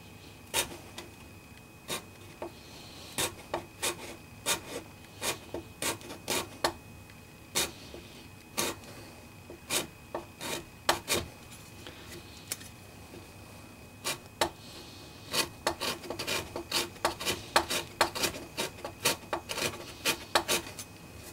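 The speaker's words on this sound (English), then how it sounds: "The scraper really does a pretty good job bringing this down." A hand scraper works a wooden guitar neck, giving sharp rasping strokes in irregular bursts, some close together and some spaced apart, up close with no talk.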